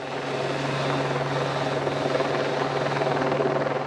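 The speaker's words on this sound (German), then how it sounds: "Ein Hubschrauber wird die abgesägten Bäume transportieren." A helicopter used by a tree-care company in the Allgäu to carry felled trees drones steadily overhead, its rotor chop and engine roar filling the air loudly and continuously.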